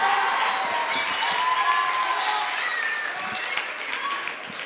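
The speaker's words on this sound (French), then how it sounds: "Je vous demande d'applaudir très fort l'équipe deuxième naissance Mat 2 qui défend le pour" An audience applauds a high-school debate team taking the pour side, with dense, steady clapping and some cheering that fills the hall for several seconds.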